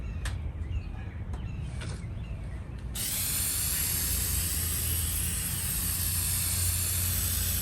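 Spray paint is applied to a retro Craftsman wall-mounted carpenter's tool box, first as faint short bursts and then a steady loud hiss that runs for several seconds over a low mechanical hum, with no talking.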